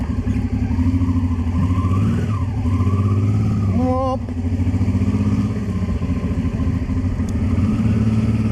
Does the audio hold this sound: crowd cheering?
no